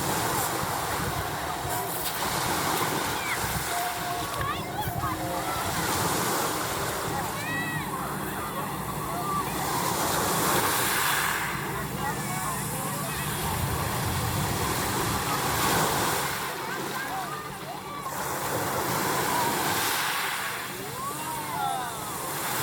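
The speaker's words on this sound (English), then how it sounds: "Listen to the sound of the sea." Sea waves wash continuously onto a Turkish hotel beach, a loud, broad, steady rush with gentle swells and no silent gaps. A voice is faintly heard beneath it.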